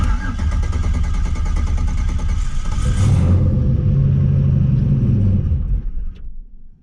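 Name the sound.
turbo V8 engine starting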